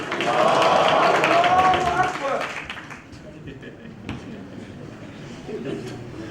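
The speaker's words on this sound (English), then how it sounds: "The girls, if you want to clap, you clap." A lecture audience, including women invited to join in, breaks into loud clapping at a talk in Ghana. The clapping lasts about two seconds and then fades to quieter room sound and scattered voices.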